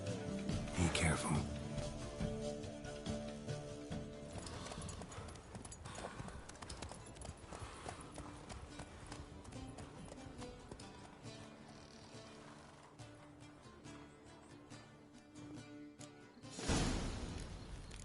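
Roach, a horse in The Witcher 3, gallops with a steady rhythm of clopping hooves under a dense music score. The hoofbeats stay fairly close and continue throughout, and a louder swell comes near the end.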